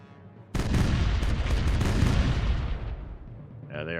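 Heavy ship cannon broadsides boom loudly in the pirate naval game Caribbean Legend, a dense rolling barrage of overlapping blasts that thunders for about three seconds, then trails off into a lingering rumble.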